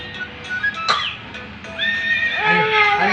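A horse gives a high, wavering whinny and a sharp call close by, with a brief rustle before it and quieter sounds from people around.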